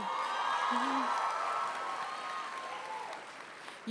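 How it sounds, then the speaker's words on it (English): A large commencement audience at John Jay College's 2015 morning ceremony applauds the graduates, a broad steady roar of clapping with some cheering that slowly fades near the end. "We all applaud you."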